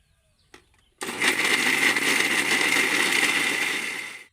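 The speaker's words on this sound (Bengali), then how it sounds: "মাত্র দুপাক গুঁড়িয়েছি তাতেই দেখুন কত সুন্দর গুঁড়োটা হয়ে গেছে" An electric mixer grinder whirs loud and steady for about three seconds, grinding fried lentil fritters into a coarse powder for motichur laddu, with a brief knock just before it starts.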